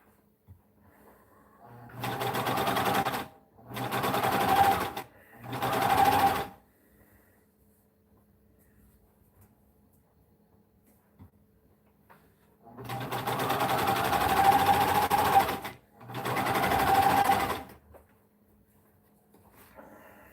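An industrial straight-stitch sewing machine stitches a wrestling singlet in five loud bursts of rapid, steady whirring, with quiet gaps between runs and no talking.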